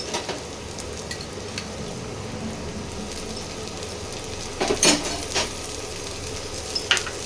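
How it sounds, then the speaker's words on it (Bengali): Chopped onion frying in oil for a prawn curry, a steady close hiss of sizzling with a short burst of stirring and scraping in the middle and a faint clink near the end, no talking. "পেঁয়াজ কুচিটা একটু ভাজা ভাজা হোক তারপরে অন্য মশলাগুলো দেবো"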